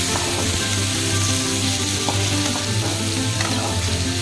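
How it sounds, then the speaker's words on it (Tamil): Apple tomatoes sizzle steadily in hot oil for Salem tomato chutney, a dense continuous frying hiss with occasional faint stirring clicks, close and loud with no talk. "இப்போ இதை 2 நிமிஷம் நல்லா வணக்கி விட்டுக்கோங்க."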